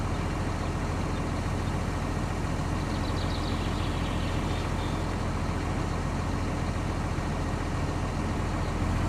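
A tractor engine in Farming Simulator 25 runs as a steady, low, rumbling drone that holds constant and fairly loud for the whole stretch, with no voices.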